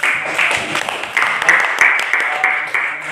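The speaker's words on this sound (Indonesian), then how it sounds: "kita berikan aplaus lagi" A classroom audience claps for a presenting student group, with uneven rolling bursts of applause at moderate distance that swell and fade in waves, alongside some background chatter.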